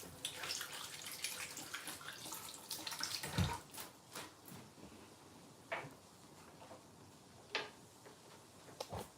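Hands are washed under a running kitchen tap while cooking beans, giving a soft steady trickle of water with scattered splashes and clinks, quiet and close.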